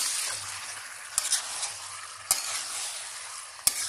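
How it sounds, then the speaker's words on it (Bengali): Chicken being sautéed in a pan gives off a steady loud sizzle, and a utensil knocks against the pan three times as the pieces are stirred. "এই দেখো তুই এখন চিকেন কষাচ্ছি,"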